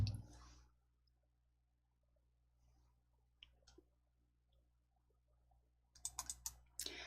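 Computer mouse double-clicking during word-processor practice, a few faint sharp clicks near the middle and a louder quick cluster of clicks near the end, with quiet room hum between.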